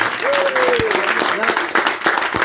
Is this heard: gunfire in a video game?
no